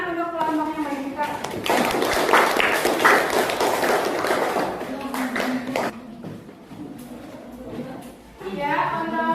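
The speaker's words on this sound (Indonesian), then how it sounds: "silakan tepuk tangan untuk kelompok yang baik kita" Students applaud a group in a classroom lesson, a few seconds of dense, lively clapping from many hands, with a teacher's voice heard before and after it.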